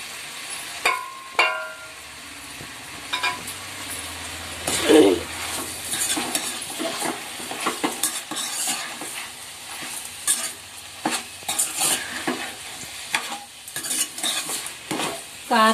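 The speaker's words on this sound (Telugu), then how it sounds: "ఇందులో అయితే ఉప్పు, కారం, పసుపు ఈ 3 కలిపి వేసుకుందాం." Chicken curry being stirred in a pan after salt, chili powder and turmeric go in, giving steady close scraping and clinking of a spoon on metal over a continuous sizzle.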